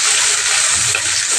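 Onion, garlic and green chili sizzle steadily in hot oil while Bengali radish greens are being cooked, a loud continuous hiss with no voices.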